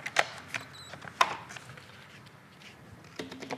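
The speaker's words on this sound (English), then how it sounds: "we need to change our pad over. And again, push the green button and we twist" A sander's pad is released with a button press and twisted off: a few sharp, quiet plastic clicks and a brief ratcheting rattle, spaced apart over low background hiss.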